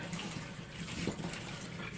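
Water draining out of a betta fish tank during cleaning, a steady close trickling and gurgling flow that runs continuously without pause.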